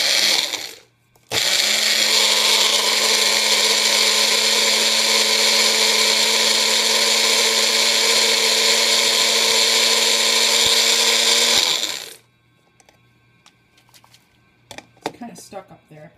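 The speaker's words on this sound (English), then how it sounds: "Here's the purple coneflower or echinacea leaves. And I'm going to grind those up too." A blender grinds purple coneflower (echinacea) leaves in a loud, steady whir lasting about ten seconds, starting after a short burst and cutting off abruptly, followed by faint clatter.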